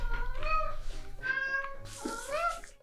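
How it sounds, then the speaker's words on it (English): A house cat meows several times up close, drawn-out tonal cries rising and falling in quick succession, loud and clear in a quiet indoor room. "I'll let my cat Tybalt say hello to you all really quickly."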